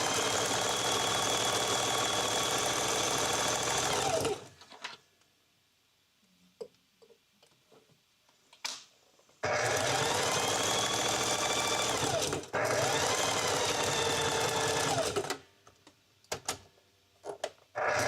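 A sewing machine quilts over a rope coaster, running loud and close in two long steady bursts of rapid stitching, separated by a quiet pause with faint handling and ending with short starts.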